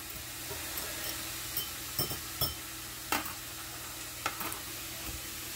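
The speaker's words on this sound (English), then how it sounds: "I'm mixing up my soy sauce with some ground ginger and a clove of minced garlic" A spoon mixes soy sauce with ground ginger and a clove of minced garlic in a kitchen. Quiet intermittent clinks and scrapes sound over a faint background sizzle.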